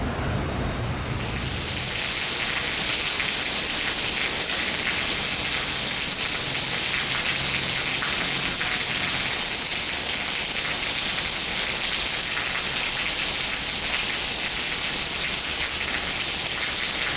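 Heavy rain pours down at Salvador airport, a dense, constant roar of drops that swells up after a quieter first second or two and then stays loud and unbroken.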